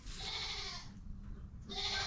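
A goat on a small backyard mini farm gives two drawn-out bleats separated by a short pause, close and fairly loud over faint outdoor background.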